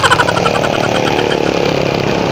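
A motorcycle engine runs close and loud at night on a road, a steady pulsing throb without pauses and no talk.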